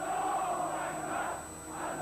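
A large crowd in Iran screams and chants "God is great", a dense, continuous roar of many voices that swells and dips slightly over a couple of seconds.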